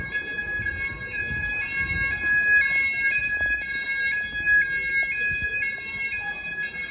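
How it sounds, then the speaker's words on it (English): An Apollo XP95 fire alarm sounder in a food warehouse gives off a steady electronic tone that wavers up and down, heard at a moderate distance with a low background rumble and no speech. "That open area sounder works good, at least. Actually gets the job done."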